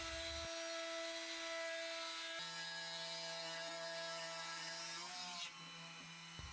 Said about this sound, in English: I put it in the drill press and then I drill the first hole.